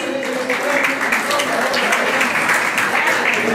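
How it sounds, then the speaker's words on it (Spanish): Party guests at an 18th birthday celebration applaud, a loud, dense wash of clapping that keeps going steadily from start to finish, close to the listener. "fuerte los aplausos"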